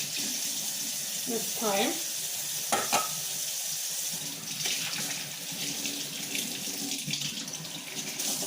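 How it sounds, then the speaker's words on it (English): Water runs steadily from a kitchen tap while a knife is washed with soap after cooking carne con chile, a continuous hiss with a brief voice over it. "I'm gonna wash my knife with soap"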